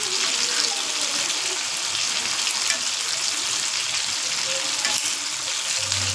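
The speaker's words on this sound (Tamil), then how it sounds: "பாருங்கள், இப்போ மீன் நல்லா பொரிஞ்சு வந்துடுச்சு" Fish frying in hot oil in a pan, a steady, dense sizzle with faint crackles and small pops that holds throughout, close and fairly loud with no talk.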